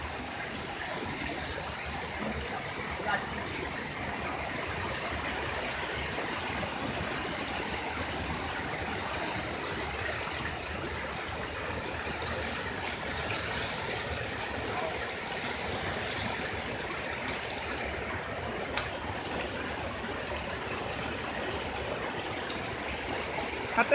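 Tidongkhyat waterfall stream in Bandarban rushes steadily, a constant broad wash of flowing water heard fairly close without breaks.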